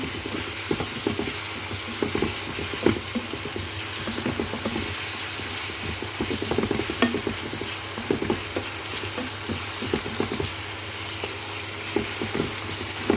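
Onions and tomatoes fry in a pan for squid adobo, a steady close sizzle broken by repeated scraping stirs throughout, with no one speaking.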